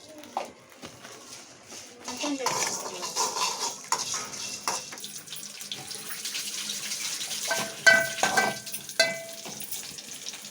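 Spices for tempering fry in a pan for village-style horse gram rasam, giving a hissing, watery sizzle that swells and fades. Occasional utensil knocks sound close by.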